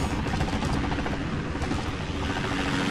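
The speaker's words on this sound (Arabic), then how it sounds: "ايوه اسمع صوت طيارة" Aircraft passing overhead in Call of Duty: Modern Warfare, a loud continuous droning engine roar filling the whole stretch with a steady, dense rumble.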